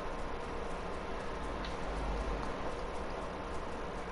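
Steady rain falls outdoors, a soft continuous patter and hiss at low level with no voices.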